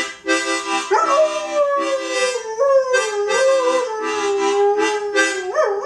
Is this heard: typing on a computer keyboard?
no